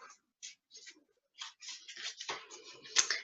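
Soft papery rustles and flicks of cards being shuffled, quiet and close, in short irregular bursts with small gaps between.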